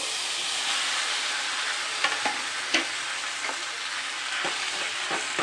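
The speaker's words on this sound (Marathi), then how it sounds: "एक ते दोन मिनटं असं मिक्स करून घेते मी तुपामध्ये परतून घेते" Grated raw mango being sautéed in ghee with cinnamon and cloves for a sweet mango relish, a steady close sizzle with a few sharp stirring scrapes scattered through.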